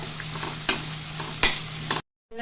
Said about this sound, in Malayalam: ഈ സവോള ഒന്ന് ചുമന്ന് വരട്ടെ കേട്ടോ